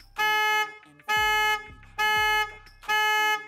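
A Hyundai Creta alarm set off remotely from a phone app honks its horn in four loud, evenly spaced blasts about a second apart, each lasting roughly half a second, heard close by without voices.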